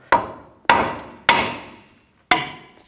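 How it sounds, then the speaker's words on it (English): Four loud, sharp metal strikes from a hammer hitting the outer tie rod stud on a 2002-2006 Chevy Avalanche front end ring out at uneven intervals, each decaying quickly, with no talking. "just take a hammer and just hit on the stud underneath here."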